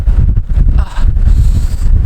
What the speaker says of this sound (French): À l'extérieur, il y a 100 km/h de vent.